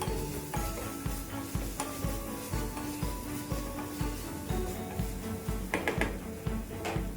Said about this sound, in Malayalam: ഗരം മസാല ഇട്ടിട്ട് നമുക്ക് നല്ലോണം ഒന്ന് ഇളക്കി കൊടുക്കാം.